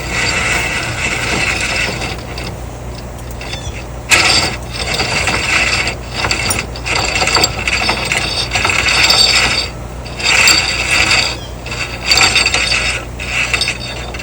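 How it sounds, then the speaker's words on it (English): A rear-mounted Warn winch on a 2023 Can-Am Defender XMR is set to free spool while its kinked cable is pulled off, giving a steady close mechanical ratcheting and clicking whir with brief pauses and surges, no talk. "So we're just going to put this in the free spool so we can get it off of here."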